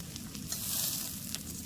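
A spice paste for bhuna khichuri fries in oil until the oil separates, with a steady, moderately loud sizzle and crackle, close by and uninterrupted.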